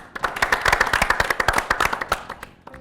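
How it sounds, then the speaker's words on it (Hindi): Lively applause for the winning team at a history quiz show, dense overlapping claps building quickly, holding strong, then thinning out and fading near the end. "जोरदार तालियां विजेता टीम के लिए।"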